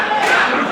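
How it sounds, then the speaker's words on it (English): Wrestling crowd at a Wrestle Rampage event shouting and calling out at a champion in trouble, a dense, loud wall of voices that stays steady through a brief burst. "The crowd telling him what to do."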